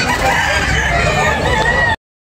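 A rooster crows among other gamefowl at a Cebu market in Tabunok, Talisay, with layered calls over constant crowd murmur and speech, cutting off abruptly near the end.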